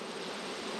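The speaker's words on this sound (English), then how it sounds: "these bees are not happy." Agitated honey bees swarm in a bee yard, a dense continuous buzzing hum that stays loud and even throughout, with no voices.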